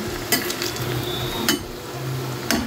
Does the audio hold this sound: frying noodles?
yes